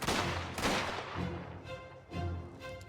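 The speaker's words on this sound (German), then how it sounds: "Oh, die schiessen aber scharf, Mann!" Gunfire in Mafia: The Old Country, several heavy bursts of shots and booming reports in quick succession, loud and close, with gaps between volleys.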